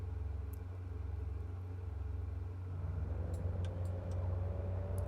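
An engine on a Tecnam 2006T twin-engine aircraft starts up in Microsoft Flight Simulator. A low, steady rumbling drone grows fuller and louder partway through, with a few faint clicks near the end.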